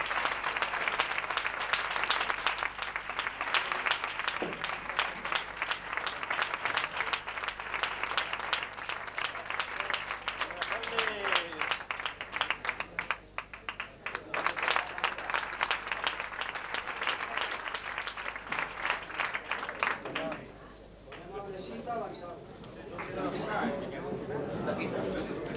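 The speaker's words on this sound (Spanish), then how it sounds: "los vamos a recibir con un fuerte aplauso a los dos" Sustained applause from a crowd, steady clapping that fills the space for most of the stretch, with a brief dip near the end before it picks up again.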